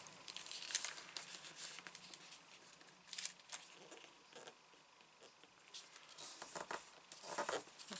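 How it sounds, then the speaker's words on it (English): Paper crinkles, rustles and gets pressed flat as it is creased and folded into a junk journal faux envelope, giving soft, close, irregular crackles and brushing sounds that rise and fall, with no talking. "So here's my crease, and I'm going to bring it in a tiny bit and fold this over"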